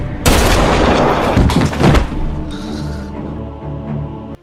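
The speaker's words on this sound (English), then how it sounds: "Without much thought, Jimmy ends Danny's life by shooting him." A single loud, close gunshot in a crime film's mafia confrontation, a sharp blast followed by a second burst and a ringing, decaying tail, with no voices.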